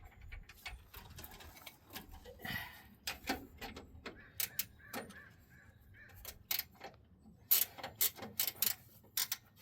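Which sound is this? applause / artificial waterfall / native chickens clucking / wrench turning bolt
wrench turning bolt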